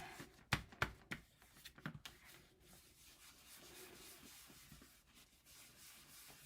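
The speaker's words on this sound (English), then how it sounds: "we want to rub this off" Paint being rubbed off through a mask or stencil, heard as a few sharp scuffing strokes early on, then a softer, steady rubbing texture that continues faintly to the end; no talking.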